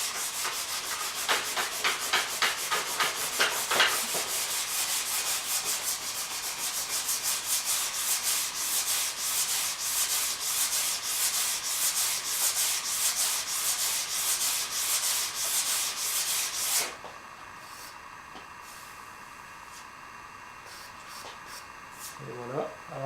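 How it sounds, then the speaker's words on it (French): A brass brush is scrubbed hard along a ski base in rapid, steady back-and-forth strokes, loud and close, for most of the clip before it stops abruptly and a quieter hiss remains. "encore la brosse en laiton dans le but de vider les pores du ski afin qu'il n'y ait pas de succion sur la neige"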